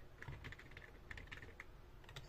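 Quiet, close-up typing on an ordinary computer keyboard: soft, irregular key taps in quick bursts with no other sound around them.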